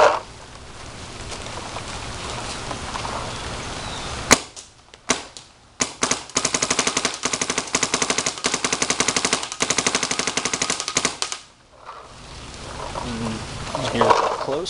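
A Dye DM14 paintball marker fires with an air tank set up on the board, a single shot and a few quick pops then a long rapid burst of crisp, loud shots before a pause.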